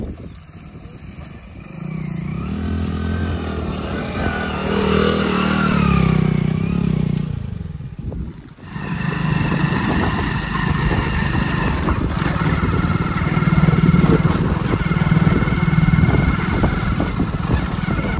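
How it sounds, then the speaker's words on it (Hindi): Mahindra Arjun NOVO tractor working a field during paddy sowing, a loud, continuous mid-pitched engine rumble with a rise in revs, a brief dip, then steady running under wind and handling noise. "भाई साहब अपने खेत पे आ चुके हैं और ट्रैक्टर चल रहा है।"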